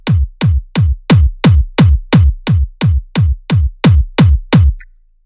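Kick drum programmed in FL Studio for UK happy hardcore, played dry without compression: thirteen evenly spaced booming hits with sharp clicks and falling low tails, loud and alone at a brisk steady tempo.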